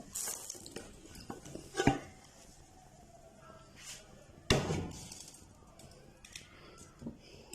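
A plate set upside down over a frying pan and a vegetable omelette cake flipped onto it, giving a few sharp clatters and a heavy thud of ceramic on metal amid quieter handling noise nearby.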